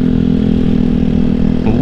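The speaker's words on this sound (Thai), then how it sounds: "วอร์มเครื่องก่อนวอร์มเครื่องก่อนอ่ะ" A Yamaha XMAX scooter engine warming up at night after a late shift, producing a steady, loud, close idling drone with a slight change near the end.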